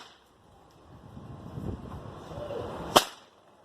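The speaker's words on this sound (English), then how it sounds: "A whip cracking is actually producing a loud snap because the tip of the whip is moving faster than the speed of sound." A whip cracks once with a single sharp, loud snap near the end, after a stretch of low rustling and wind-like noise.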